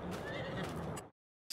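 A horse in the Farming Simulator 22 video game gives a loud, close whinny lasting about a second, followed by a brief silence and the start of another burst.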